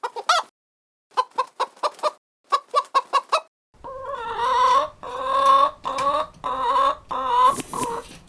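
A hen clucks in short, evenly spaced bursts, then breaks into louder, drawn-out cackling calls with clear gaps between them, close and alone with no talk.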